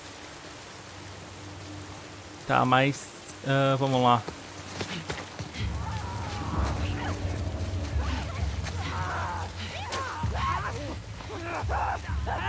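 Steady heavy rain falling on surfaces in The Last of Us Part II, a constant wash of noise running throughout, with a low rumble underneath and someone briefly speaking near the start.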